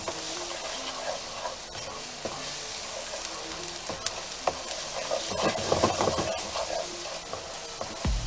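Onions softening in a pan with crumbled sausage, a steady low sizzle and hiss with occasional stirring scrapes, fairly quiet and close, growing briefly busier toward the end, with no talking.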